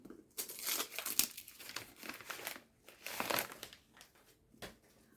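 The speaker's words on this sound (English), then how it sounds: "I actually wanted to show myself unwrapping this one because look at this wrapping" Paper wrapping is torn and crinkled off a book from an advent calendar, with close, bursty rustles and rips coming in uneven waves with short quiet gaps.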